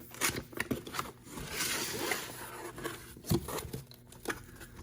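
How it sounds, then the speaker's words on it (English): A blade slicing through the seal tape on a box holding an angle grinder kit, giving soft close scratchy cuts and a brief tearing rasp, with a few quiet taps and rustles of packaging. "I cut the little seal here."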